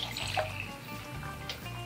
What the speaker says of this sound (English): I'm going to carefully pour this into the mug.